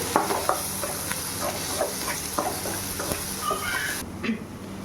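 A spoon stirs a sizzling masala of chilli powder and salt in a pan for masala pasta, with soft frying hiss and a few scraping strokes, close up, the sizzle dropping away near the end.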